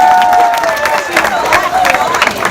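At a movie premiere Q&A, the audience claps and cheers for the film crew, a loud, close mix of applause, whoops and excited voices.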